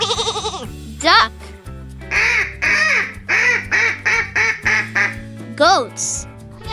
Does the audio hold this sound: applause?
no